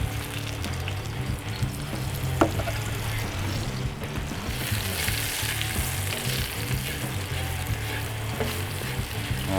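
Baby bella mushrooms sizzle steadily in a hot pan where bison was just browned, a continuous frying hiss with occasional stirring scrapes, close and fairly loud throughout.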